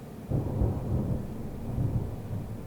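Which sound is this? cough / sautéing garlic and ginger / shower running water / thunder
thunder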